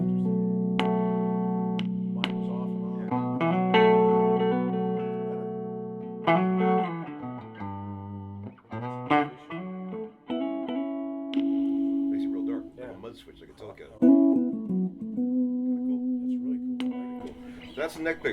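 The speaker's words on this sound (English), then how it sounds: "This is the neck pickup through a Fender Vibrolux reverb." Veleno electric guitar played on its neck pickup through a Fender Vibrolux Reverb amp, clean, warm single notes and short phrases with bends and slides, ringing with a light reverb tail.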